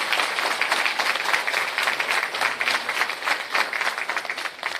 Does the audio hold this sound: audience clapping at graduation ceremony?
yes